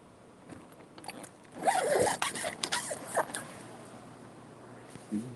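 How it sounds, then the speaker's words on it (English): A zipper door on a dry room being unzipped, a loud ripping zip building from about 1.7 s with uneven bursts and a short tug near the end, close and alone. "We got our zipper door."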